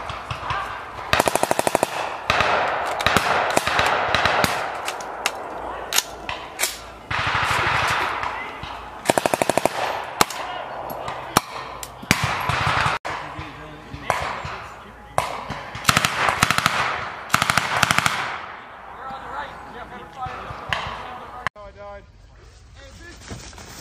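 Machine gun fire from a gun team during a U.S. and Czech infantry military exercise crackles in repeated bursts, loud and sustained, with voices talking over the shooting throughout.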